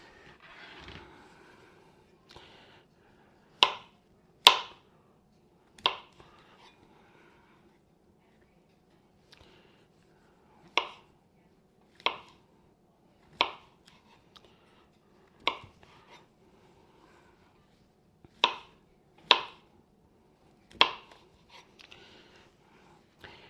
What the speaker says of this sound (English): Chopping these mushrooms, they want to slide everywhere a little bit.